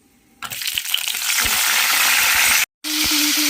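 Tomatoes frying in a pan for chutney give a loud, steady sizzle that bursts in after a quiet start, with a few scraping stirs and a brief dropout near the end.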